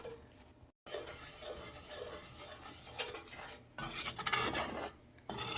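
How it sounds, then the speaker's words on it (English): A cornstarch and flour gravy mix gets stirred in a pan, making faint, close scraping and swishing strokes of a utensil against the pan, with brief pauses and one louder, busier patch of scraping. "I'm just going to stir it until it gets equal"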